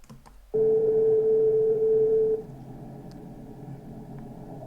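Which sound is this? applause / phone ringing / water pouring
phone ringing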